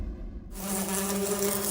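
Honey bees hum around beehives on a summer honey farm, a steady, close buzzing drone that sets in abruptly after a brief quieter moment and carries on without talk.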